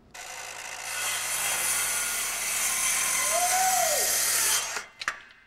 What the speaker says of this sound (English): The new Milwaukee 18-volt cordless circular saw.